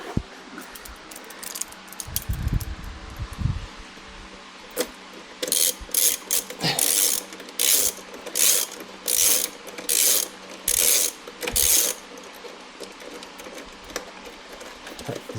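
Bolts on a Nissan Z being tightened with a hand ratchet: a run of loud, close clicking bursts repeats in a steady back-and-forth rhythm after some softer metallic handling and clunks, with no talking.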